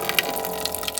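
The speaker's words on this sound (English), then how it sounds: "I got some running water set up here for hand washing and" Water runs steadily from a tap inside an RV, set up for hand washing, with a close, continuous splashing hiss and small drips and spatters over it.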